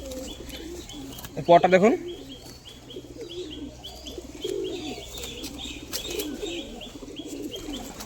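Pigeons for sale, including a crested one, cooing in low murmurs nearby, with a short burst of wing flapping early on and someone speaking briefly over the birds.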